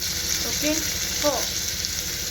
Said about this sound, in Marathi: मिरची ऍड केली आहे. आता हे असं व्यवस्थित फ्राय करून घेऊ.